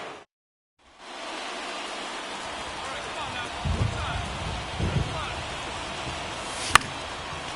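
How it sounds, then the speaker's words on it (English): Steady rain hisses over a baseball game as a broadcast plays, a broad, even wash of falling drops with a few low rumbles and one sharp crack near the end. "This rain is not letting up"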